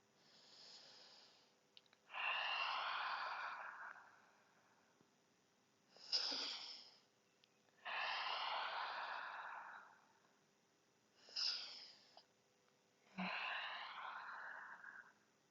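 Slow, deep yoga breaths close to the microphone: three long airy exhales, each preceded by a short sharp inhale, in a quiet room.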